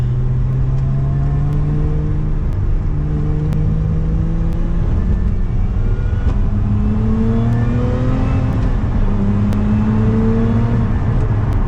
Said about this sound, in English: You can really hear that supercharger whine